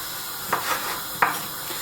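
Diced thick-cut bacon and sausage frying in a pan for Breton-style beans, a steady sizzle with a couple of brief stirring scrapes near the pan.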